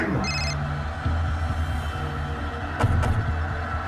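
A telephone rings in a short electronic burst near the start, then low background noise and faint rumbling continue.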